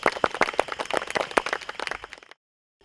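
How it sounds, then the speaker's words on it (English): A storytelling audience claps for a couple of seconds, a dense patter of hands at moderate distance, fading out abruptly into silence. "Give yourself a round of applause."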